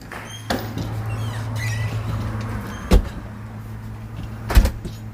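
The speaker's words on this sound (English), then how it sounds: "As you can see, this is a fairly busy road" Steady low road rumble of traffic on a busy road outside a house in Columbia, SC, with a constant vehicle drone throughout and two sharp thumps, like doors or passing vehicles, near the middle and end.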